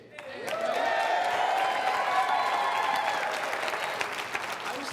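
A studio audience breaks into sustained, dense applause that swells quickly and holds steady for several seconds, with a few faint voices mixed in beneath the clapping.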